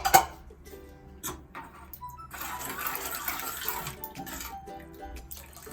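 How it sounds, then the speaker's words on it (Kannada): Water pours into a pot of cooking leafy greens and lentils for soppina huli. A nearby splashing rush swells midway through and is joined by light clinks of the pot. "ಒಂದು ಸ್ವಲ್ಪ ನೀರು ಹಾಕ್ತಾ ಇದ್ದೀನಿ"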